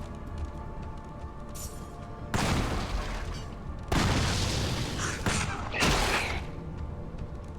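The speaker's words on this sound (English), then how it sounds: "Trusty pistol." Pistol shots in the video game Torchlight crack out as a few loud, separate bursts over a steady low game ambience, each shot broadband and punchy with short gaps between.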